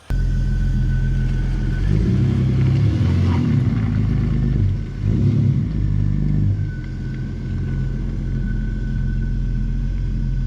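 Vehicle engines idling and rumbling as a truck and a Jeep are repositioned for a winch test, a steady low drone that swells briefly with revving in the middle, close by and loud, with no talk.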